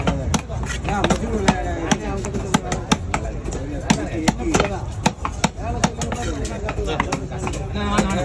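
Repeated knife chops through red snapper fish on a board, sharp irregular thwacks throughout under steady background chatter and voices.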